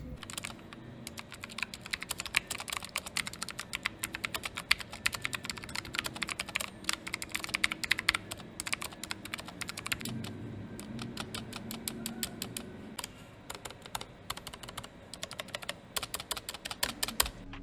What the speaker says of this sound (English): typing on this keyboard right out of the box really isn't the best in terms of acoustics